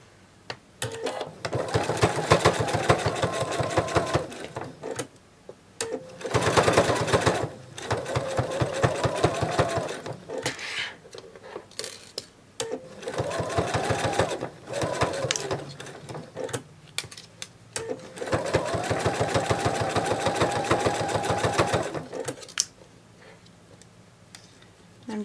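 A sewing machine stitches a penguin plush in rapid, steady runs, close and clear, with four or five bursts of mechanical whirring and ticking separated by short pauses.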